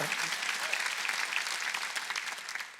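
Steady applause from a large church congregation at a Sunday service, a continuous dense patter of many hands clapping at even volume for a few seconds.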